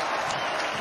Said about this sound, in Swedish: Publiken jublar åt Ronaldo Damus som gör sitt första allsvenska mål